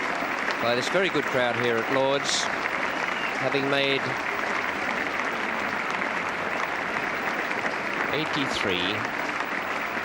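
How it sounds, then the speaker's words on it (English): A large cricket crowd at Lord's gives batsman Alan Knott a standing ovation, with sustained applause that stays steady throughout while a commentator talks over it. "here he is now being applauded out, given a standing ovation by this very good crowd here at Lord's"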